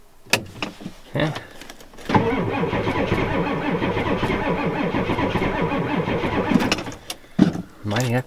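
A Ford F250 with a 7.3 IDI diesel engine cranks on a cold start, the starter grinding steadily for several seconds before cutting off, with someone talking briefly before and after the attempt.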